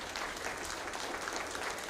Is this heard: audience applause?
yes